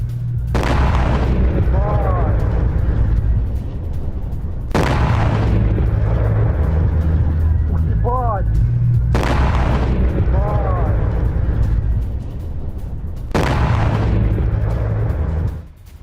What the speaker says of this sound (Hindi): रिहायशी इमारत पर गिरती दिखी मिसाइल धमाके से थर्राया पूरा इलाका।